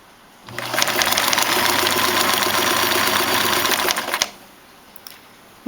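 A sewing machine runs steadily through faux fur for about four seconds, a close, loud, rapid mechanical chatter that starts and stops cleanly, followed by quiet.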